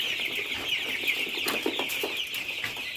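A crowd of nine-day-old broiler chicks cheeps continuously in high, overlapping peeps, close by and lively, with a few soft clucks mixed in.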